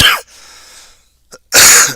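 A person coughs sharply and close to the microphone, with two harsh bursts separated by a breathy pause and a faint small catch between them.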